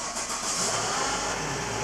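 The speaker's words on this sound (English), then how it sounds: "I think I'm gonna have to start the car in order to make it work." A 2015 Volvo V70 engine catching and running, a brief, steady mid-pitched rumble heard close up, with no talk over it.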